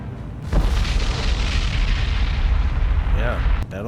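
A ship blows up in the naval combat game War on the Sea, a loud sustained roaring explosion with heavy low rumble lasting several seconds, then cutting off near the end.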